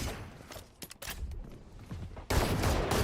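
Gunfire in a Valorant esports match, rapid bursts and sprayed shots that build into a loud, dense volley near the end, with game ambience between.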